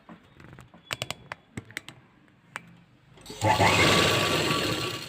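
Light clicks and taps are followed by a sustained, steady run of a sewing machine stitching a netted blouse sleeve, heard up close with no speech.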